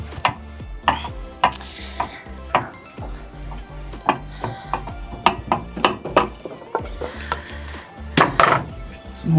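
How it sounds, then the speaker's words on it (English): Chisel cleaning leftover waste out of a wood joint while making a wine caddy, with a run of sharp, irregular taps and scraping clicks close up, steady and moderately loud, no talking. "You can just clean that up with a chisel."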